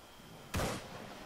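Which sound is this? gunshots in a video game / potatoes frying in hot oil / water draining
gunshots in a video game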